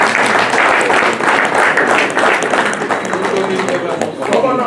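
A conference audience applauds at an Igbo heritage lecture, welcoming a speaker to the podium: dense, steady clapping from a large crowd that holds loud throughout, with voices mixed in.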